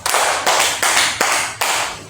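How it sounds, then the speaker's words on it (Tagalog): A class claps in unison for a pupil's correct answer: five evenly spaced, loud claps in a steady counted rhythm, with no talking over them. "Bigyan ng 5 palakpak si Dingding"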